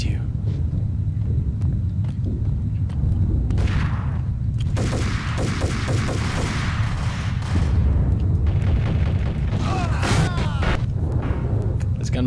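Gunfire rings out in the action shooter Max Payne, with bursts of repeated shots and booming blasts over a steady rumble, some clustered rapidly and others spaced apart.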